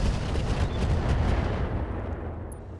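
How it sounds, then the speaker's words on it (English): Weapons fire in the mech combat game RogueTech, heard as a sustained, dense rumble of overlapping low booms and blasts that trails off slightly toward the end, with no talking. "Firing all weapons."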